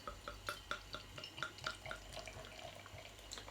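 Bottle-conditioned homebrewed brown ale poured from the bottle into a glass, a quick series of bright glugs and trickles that turn to a soft steady fizz over a low background hum.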